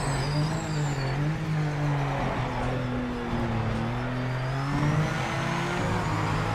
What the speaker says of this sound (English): I'm hitting the rev limiter way earlier in this because the sound is like.